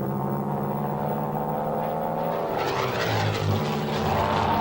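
Piston engine drone of a North American P-51 Mustang fighter diving in wartime combat, a loud sustained roar with steady harmonic tones that swell and shift in pitch midway, heard alone without voices.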